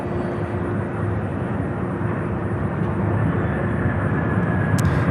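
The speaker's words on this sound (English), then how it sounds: "We have an E-175 American flight" An American Airlines Embraer E-175 regional jet at Louisville airport gives off a steady, moderately loud engine rumble that holds even throughout, with no voices over it.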